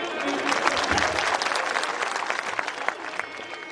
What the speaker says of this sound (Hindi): तालियां बजा दो उनके लिए।